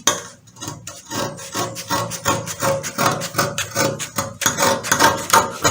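Scissors snip through blouse fabric in a steady run of rapid, close rasping cuts, loud and continuous with no voice over them.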